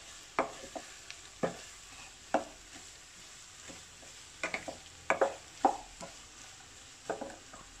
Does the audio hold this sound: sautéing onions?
yes